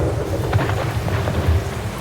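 Rain falls during a storm with a low, rumbling roar of thunder, a loud and steady wash of sound throughout.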